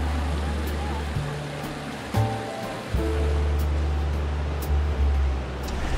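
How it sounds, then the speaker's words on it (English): Steady splashing, trickling water from a small garden water feature, continuous and close, with a low hum underneath. "listen to the sound of the water"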